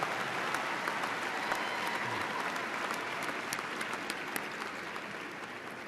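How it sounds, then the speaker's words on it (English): Sustained applause from a large commencement crowd greeting graduating candidates from the College of Natural Resources and Environment at a Virginia Tech fall graduation, steady dense clapping throughout with no talk. "Let's give a round of applause to the candidates from the College of Natural Resources and Environment."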